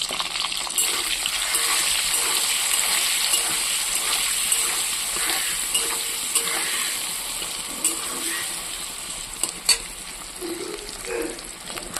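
Eggs sizzle and fry steadily in a pan seasoned with salt and turmeric, a continuous close crackle with occasional small pops and stirring noises, no talking.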